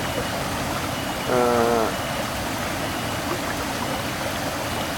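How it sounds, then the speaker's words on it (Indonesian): Water from a spring at Cimincul flows in a steady, loud, continuous rush close by, with a brief voice-like tonal sound rising over it for a moment. "Tapi ini aliran airnya saya rasa ini tidak yang berbahaya ya"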